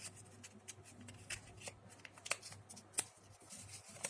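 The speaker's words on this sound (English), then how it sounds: "So again I will fold this circle for 2 times." A paper circle is folded twice to find its centre, giving soft crinkling and creasing rustles with a few sharper paper snaps, close and fairly quiet.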